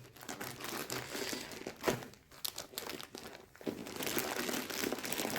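Cross-stitch kit items being pulled out of a plastic zip bag during an unboxing, with continuous close, loud crinkling and rustling of plastic that pauses briefly before resuming.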